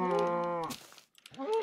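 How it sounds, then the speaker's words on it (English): A cow moos twice in Minecraft Alpha, a long low drawn-out bellow followed after a short pause by a shorter second moo, both loud and close with no talking. "Cows are very loud."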